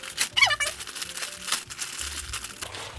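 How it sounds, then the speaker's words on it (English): A plastic mailer bag holding a t-shirt is crinkled and torn open in short rustling bursts, close by, with someone talking over parts of it. "It's like Sarah-proof packaging."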